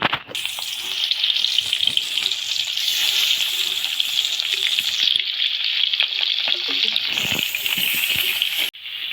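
Pomfret fish drops into hot oil and fries with a loud, continuous crackling sizzle, close up, dipping briefly near the end before resuming.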